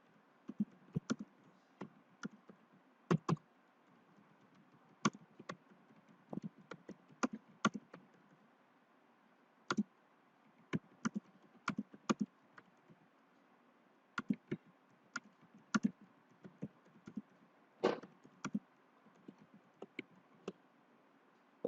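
Typing on a computer keyboard while writing a LaTeX document, with faint, close, irregular key clicks in quick clusters and short pauses throughout.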